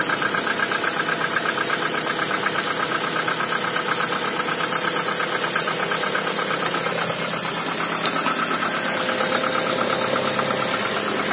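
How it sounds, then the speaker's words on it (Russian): A cold Toyota RAV4 engine idles steadily in snowy weather, with a faint, rapid ticking knock from a lifter riding over the even hum throughout, heard close and alone. "мотор совершенно холодный, но работает ровно. Чуть-чуть немножко какой-то компенсатор подстукивает"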